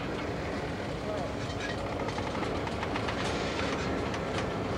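A Conrail freight train rolls past close by with a continuous heavy rumble and rhythmic clickety-clack of wheels over rail joints, steady in loudness throughout. A voice speaks briefly over it.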